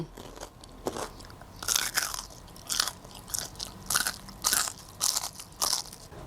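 Crispy batter-fried banana bitten and chewed close up, with about seven loud crunchy bites spaced roughly evenly and softer chewing crackles between them.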